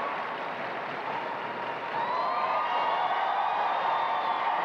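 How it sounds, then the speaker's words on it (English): Large arena crowd at the Westminster Kennel Club Dog Show in Madison Square Garden applauding and cheering as herding breeds parade, a steady dense roar of clapping that swells louder midway. "You're hearing the crowd's reaction, the German Shepherd, Leroy Brown."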